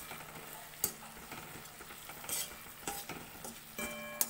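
Tomato sauce and spices are stirred into food in a frying pan over a medium flame. A soft, quiet sizzle runs under scattered clinks and scrapes of a spoon against the pan.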